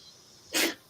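A single short, sharp sneeze bursts out near the end, close and fairly loud after a brief quiet intake.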